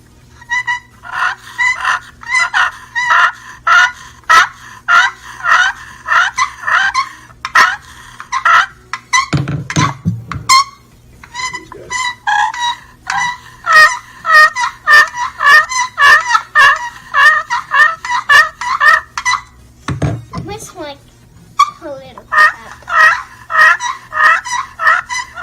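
A series of sharp, high yelping turkey-like calls comes in quick bursts from a wing bone call, with brief low noises between runs.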